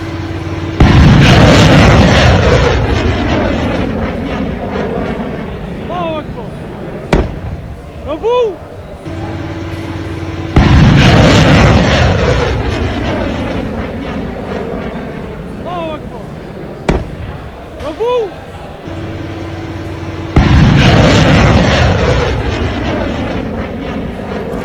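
Iranian missiles being intercepted in the sky over Kuwait, heard as loud booming blasts that recur in repeating waves of rumble, with sharp cracks and a voice talking between them.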